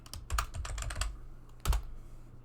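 Keys clatter on a computer keyboard close by during a school database lab exercise, in two quick bursts of rapid typing with a short pause between them and quiet elsewhere.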